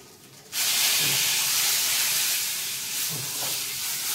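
Cumin seeds and bay leaf hit hot cooking oil with a sudden loud sizzle that holds steady and hissing for several seconds, up close, while shrimp and banana-flower fritters are being cooked.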